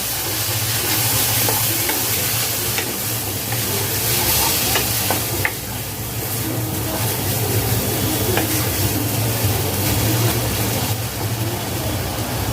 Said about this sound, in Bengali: ভালোভাবে নেড়ে মিশিয়ে নিব।